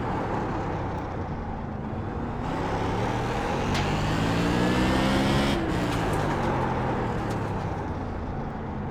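A race car engine in the iRacing game at the LA Coliseum climbs in pitch under throttle, peaking sharply as it shifts, then builds again, loud and alone with no talk.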